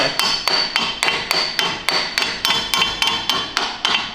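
Steady, evenly spaced hammer blows ring out, about three per second, sharp metallic strikes repeating without pause.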